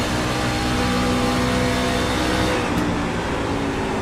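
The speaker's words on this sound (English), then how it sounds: "And listen to that throttle." Race truck engines in an iRacing game at Homestead-Miami Speedway drone with a loud, continuous, dense roar, throttle held steady throughout with no pauses.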